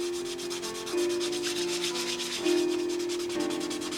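Sandpaper of 600 grit rubbing over a painted clear coat to knock down an edge, a steady close scratchy sanding hiss with strokes that swell and shift in pitch, no talk.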